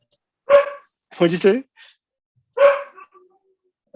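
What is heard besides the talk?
dog barking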